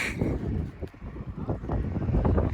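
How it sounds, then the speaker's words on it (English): Wind gusting high up inside an abandoned brick factory, a low rumbling buffet against the microphone that rises and falls throughout. "I'm still shaking in the wind up here."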